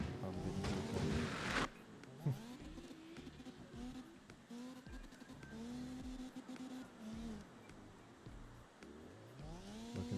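Tires squeal in long sliding arcs as cars drift in CarX, an engine whining and revving beneath, with a burst of louder motor noise at the start and a voice talking quietly in places.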